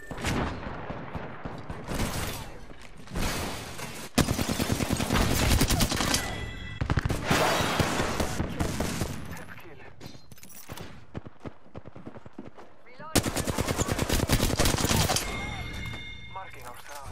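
Video game gunfire: dense volleys of rapid automatic shots come in repeated bursts separated by brief gaps of quieter clatter, loud and close, with a game voice speaking briefly between volleys.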